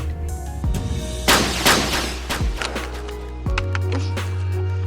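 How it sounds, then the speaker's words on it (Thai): Several sharp gunshots ring out during shooting practice in a Korean period drama series, with irregular bursts and impacts at close range amid other action sounds. "โอปุกก็ฝึกยิงป ืนให้กับพวกทาสที่เมื่อก่อนเนี่ยยิงไม่เป็นเลยนะครับ"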